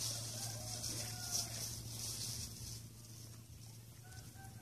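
Chickens cluck and call softly in a farmyard, several short calls over steady background noise with a low hum.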